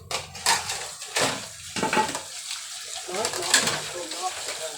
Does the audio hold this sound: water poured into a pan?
yes